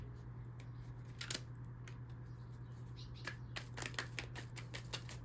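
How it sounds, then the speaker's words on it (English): Tarot card drawn from a deck: quiet crisp flicks, snaps and papery slides in short clusters, close by over a steady low electrical hum, with no voice. "let's pull one of these cards out here too"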